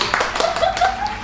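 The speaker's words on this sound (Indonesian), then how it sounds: "Tepuk tangan lagi." Hands clapping in a quick, uneven burst of applause, close and fairly loud, with a voice briefly heard over it.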